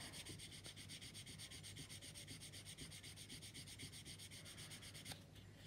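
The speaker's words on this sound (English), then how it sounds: "That's drying out, so I can sand that down." Close, steady back-and-forth rubbing of sandpaper over dried Mr. Surfacer filler on the flaps of a Tamiya 1/32 scale Mosquito model aircraft, continuous for several seconds with a brief scrape near the end.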